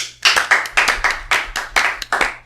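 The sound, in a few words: people clapping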